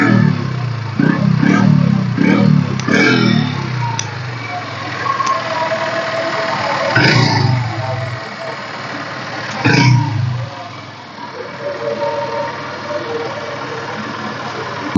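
A 2015 Honda Dream Yuga motorcycle idles close to the silencer with a steady low putter, partly under someone talking, with a couple of brief louder bursts.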